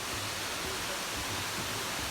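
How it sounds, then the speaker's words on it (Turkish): Waterfall plunging into a deep pit roughly twenty storeys down, heard as a steady, broad, continuous roar of rushing water with no breaks, filling the space evenly at moderate loudness. "Ve mükemmel bir şelale."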